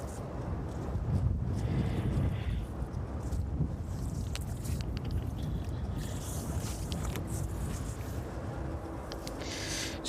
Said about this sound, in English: So definitely a lot windier than I anticipated this evening.